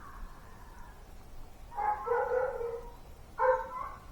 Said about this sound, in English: And the dog started howling.